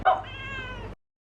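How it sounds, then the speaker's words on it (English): A calico Turkish Angora cat gives a single clear meow, close and fairly loud, lasting just under a second before silence. "This is our cat, Garry. She is a calico Turkish Angora cat"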